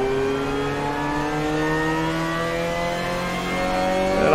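A car on a track day at Sepang circuit accelerates hard under braking and gear changes, its engine pitch sweeping steadily upward, loud and close from inside, then swelling toward the end.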